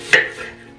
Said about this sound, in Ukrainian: Я наріжу кубиками її.